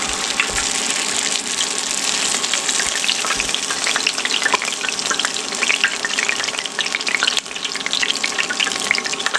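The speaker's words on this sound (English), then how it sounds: "And then we can set it down inside the oil." Veggie egg rolls fry in hot oil with a loud, steady, close-up sizzle and crackle that continues unbroken with no talking.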